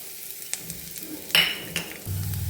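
Grated garlic frying in oil in a pan for a creamy Indian mushroom curry, giving a soft, close sizzle with light stirring scrapes and a brief louder hiss midway, then a steadier low crackle.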